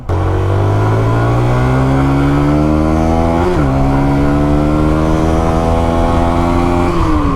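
A QJ Motor XRider SRV160 motorcycle being ridden, engine note climbing steadily through the revs, dropping briefly at a gear change around the middle, then rising again, loud and close without talk.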